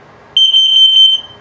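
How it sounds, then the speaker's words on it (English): An RV's LP gas and carbon monoxide detector sounds during self-test, giving one loud, close, sustained high-pitched electronic tone with a slight pulsing wobble that lasts under a second, then stops. "Carbon monoxide coming up."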